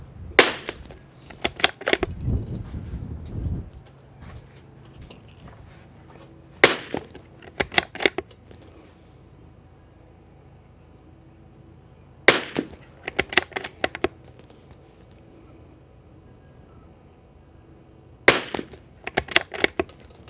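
Rifle shots at an outdoor shooting range, likely rimfire and precision bolt-actions, crack out in sharp clusters of three or four quick reports every few seconds, loud and close, with no talk between them.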